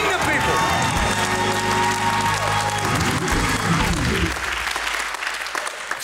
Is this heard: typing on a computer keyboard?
no